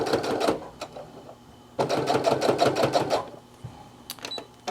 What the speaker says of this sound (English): So go ahead and back stitch.